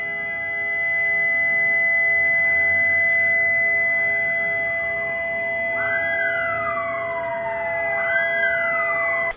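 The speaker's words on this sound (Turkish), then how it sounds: "Cumhuriyet Meydanı'nda sirenler çaldı" Civil defense sirens wail across Cumhuriyet Square in Erzincan at 9:05 during a moment of silence for Atatürk's death anniversary, a loud, steady tone with slow rising and falling sweeps carrying on without any talk.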